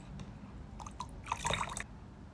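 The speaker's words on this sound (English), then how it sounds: "I'll smooth everything out with water and a sponge," Wet sponge with water smoothing the rim of a slab-built clay mug: soft, quiet squishing and faint dripping strokes, brief and close, with a slightly busier burst near the end.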